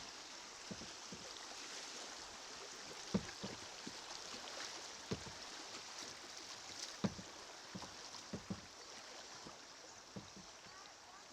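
Choppy creek water rushing and splashing around a canoe running rapids on Antietam Creek, a steady broadband wash with scattered paddle knocks and thumps, fairly faint and continuous throughout.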